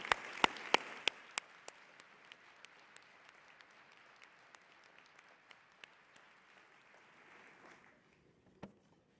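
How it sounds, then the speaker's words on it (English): An audience applauds after an art piece at a civic event: a dense burst of clapping that thins into scattered individual claps and then fades, heard from a moderate distance with no talk. "Can we get another round of applause for that beautiful piece of art?"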